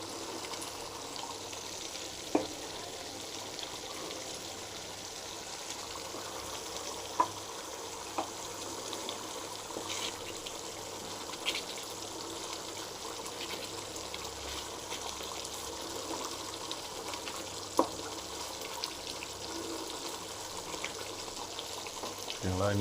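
Coconut milk simmers and reduces in a pan until the oil separates, giving a steady, soft bubbling hiss throughout with a few faint clinks, close by and without talk.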